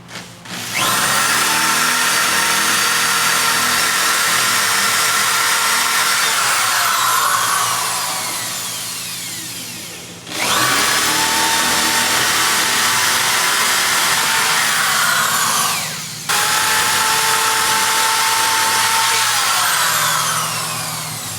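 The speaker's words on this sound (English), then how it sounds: "with our electric drill, just like we did on the other side, we're going to go ahead now and drill out these 4 holes" An electric drill boring holes runs at a steady whine in long bursts, close and loud, with two short pauses where the motor stops before it spins up again; no talking.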